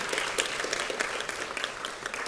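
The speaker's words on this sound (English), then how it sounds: "Let's give one more round of applause for all of our champions in this category" Audience applause for the category champions at the 2024 Asia-Pacific Care Champions awards, a steady wash of many hands clapping at moderate volume throughout, with no voices over it.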